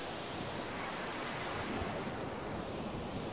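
Sea waves wash onto the sand at Suan Son Pradiphat beach in Hua Hin, a steady, close surf roar with wind noise over the microphone and no clear breaks.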